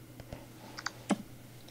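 Typing a message on a phone's on-screen QWERTY keyboard, heard as a few faint, sparse taps and clicks against a quiet background, with one slightly louder tap near the end.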